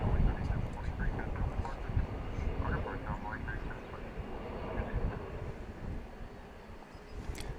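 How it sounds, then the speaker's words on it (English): An Embraer E-Jet airliner rolls down runway 18 Left at DFW Airport at night, a steady distant engine rumble and roar under quiet talk. "We have an E-Jet, which is now rolling down runway 18 left."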